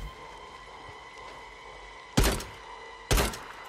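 Two sharp gunshots ring out about a second apart in the video game Days Gone, each a loud, close boom with a short tail, standing out against a quiet, humming ambience.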